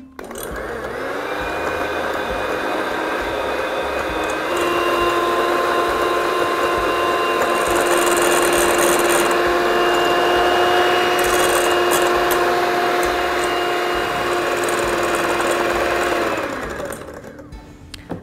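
An electric hand mixer whirs steadily as it beats eggs for a chocolate cake, a loud continuous motor hum with stable tonal whine running about sixteen seconds before cutting off, no voices.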